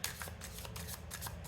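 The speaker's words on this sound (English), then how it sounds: "One last shuffle." Tarot cards being shuffled by hand in a quiet room, a soft rapid riffling flutter in quick bursts, close and alone without talk.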